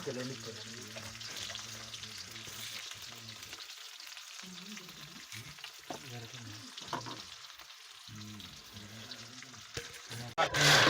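Crab curry base with onions and a sprig of curry leaves frying in a pan, a steady close sizzle and bubbling throughout, over a low, tonal background hum with occasional stirring scrapes.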